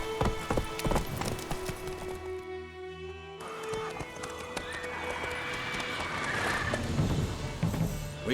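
Roach, a horse in The Witcher 3, gallops with steady rhythmic hoofbeats and snorts, loud and close, over game music and ambience, with a brief voice.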